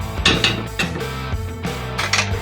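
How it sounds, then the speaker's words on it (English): A spoon stirring a pot of salmon stew, with several knocks and scrapes against the pot in an uneven rhythm, close and fairly loud, with no talk. "let me stir this a little bit"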